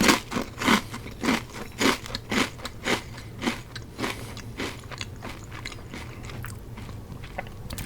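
Crunching Ruffles All Dressed potato chips, a steady run of close, sharp crunches and bites that gradually soften and blur into quieter chewing, with no talking.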